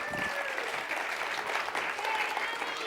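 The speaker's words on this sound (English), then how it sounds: "everybody, give her another round of applause" An audience at a graduate thesis competition applauds in a steady, even wash of clapping, moderately distant and quiet, with a faint voice briefly audible over it.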